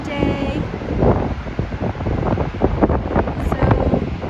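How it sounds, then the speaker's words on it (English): Wind buffets the microphone on a seaside cliff above ocean waves, a steady rough roar with gusty swells throughout, loud and close, and surf faintly beneath. "It's a windy day."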